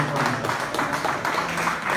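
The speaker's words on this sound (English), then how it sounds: "Let's give Tom a round of applause." Audience applause from a crowd at a veterans event in Chicago, a brief steady patter of clapping at moderate distance.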